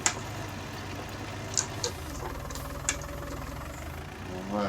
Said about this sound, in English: this tractor now having an easy time of it with just these arrows on the back